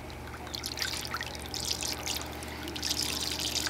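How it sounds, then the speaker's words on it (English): Water trickles and flows steadily through a fine gold recovery bowl, a close, continuous watery rush with light bubbling texture and no voices. "So I'm going to increase the water flow"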